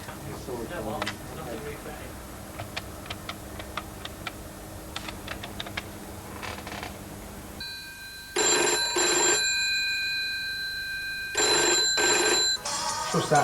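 Soft clicking and tapping give way to a loud telephone bell ringing in two long, sustained bursts separated by a pause, heard close and clear.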